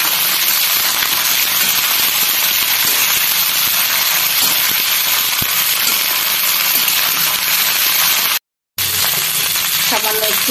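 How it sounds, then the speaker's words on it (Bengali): Cauliflower florets dropped into hot oil in a home kitchen sizzle with loud, steady, dense crackling and spitting throughout, broken by a brief silent gap near the end, followed by soft clatter. "তেল আমার গরম হয়ে গেছে, এবার দিয়ে দিচ্ছি ফুলকপি।"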